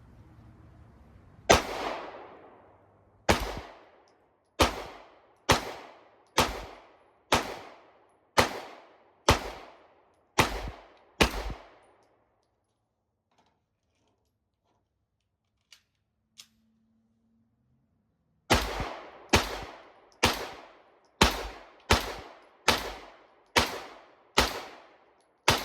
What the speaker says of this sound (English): I'm gonna go ahead and aim a little bit higher, and I'll put another magazine through it.